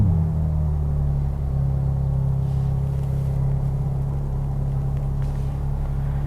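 A BMW G82 M4 Competition xDrive's engine settles into a deep, steady idle rumble, close and even for the whole stretch, without any talking over it.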